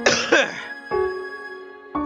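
A man clears his throat and coughs a few times, close and fairly loud, in short rough bursts with pauses between.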